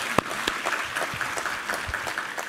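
A church congregation claps together during a Sunday worship service, giving steady, even applause at moderate volume with a few sharper claps standing out.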